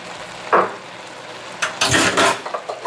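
Minced garlic drops into a hot stir-fry pan with chicken, a short hiss followed by louder bursts of sizzling and the clatter of a utensil against the pan, near and brief.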